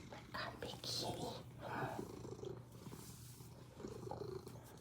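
A big male house cat purring close up, a low steady rumbling purr in repeated breathing cycles, with a person softly talking and cooing over it.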